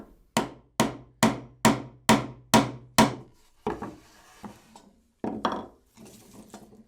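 Sharp hammer blows drive a wooden piece into place on a hand-built shooting board: seven evenly spaced, loud knocks, then a few scattered softer taps and scraping handling sounds.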